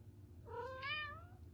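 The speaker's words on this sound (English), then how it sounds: "I hear you, baby kitty." A cat meows once, a faint, drawn-out rising and falling call heard indoors against quiet background hum.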